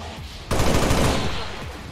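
A sudden loud burst of automatic weapon fire in XCOM 2, roughly a second of rapid close shots that then fade into a low tail.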